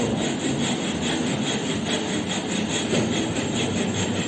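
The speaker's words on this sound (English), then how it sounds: "We are using tiny saw, it's a finer saw, to cut the piece into two parts, two equal parts." A fine, small hand saw cuts a piece of wood in two for the mortise part of a mortise and tenon joint in a carpentry shop, with steady, continuous rasping strokes, close and loud throughout.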